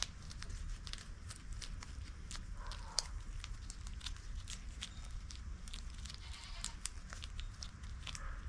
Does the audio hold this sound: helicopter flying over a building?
no